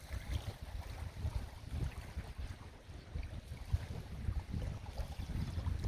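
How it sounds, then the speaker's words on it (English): An outdoor breeze gusts at a wild campsite in Glen Etive, a soft, low rumbling wind that rises and falls continuously with nothing else on top of it. "That nice breeze is back again"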